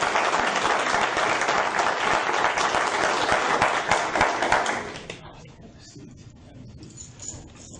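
A school board meeting audience gives a loud round of applause for students who won medals. The clapping is dense and close, then stops sharply after about five seconds, leaving quiet room sounds and a few faint taps.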